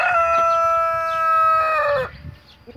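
A tame Brahma rooster lets out a single loud, drawn-out crow close by, ending abruptly, followed by quiet background.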